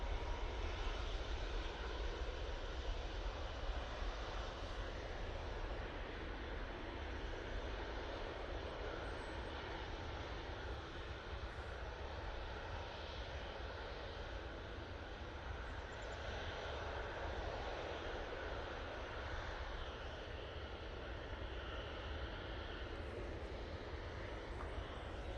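A Boeing 737 MAX 8 jet airliner at Manchester Airport, bound for Faro, holds a faint, steady engine roar heard from a distance, unbroken and even throughout with no talking over it.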